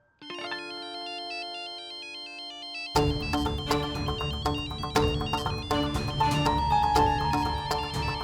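A mobile phone ringtone plays a looping electronic melody while a call is placed, first alone and quiet, then joined around three seconds in by a fuller, louder burst of music that keeps going to the end.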